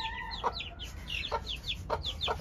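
A Colombian Light Brahma hen with a large comb clucks in short, repeated calls at close range, several soft clucks spaced through the moment over faint background hiss.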